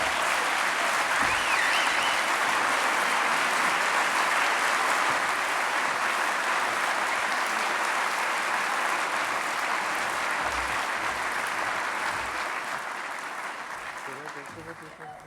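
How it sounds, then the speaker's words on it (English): An audience at a Boys & Girls Clubs alumni hall of fame ceremony claps steadily for the awardees, a dense, sustained round of applause that slowly fades toward the end. "just a round of applause for all of the awardees."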